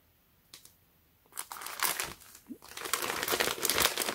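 Crinkling of a Palace Skateboards Ziploc plastic packaging bag, starting with a few soft handling taps, then a loud, sustained close-up crackle of rustling and crushed plastic.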